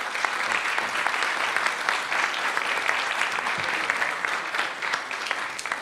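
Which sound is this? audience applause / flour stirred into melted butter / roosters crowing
audience applause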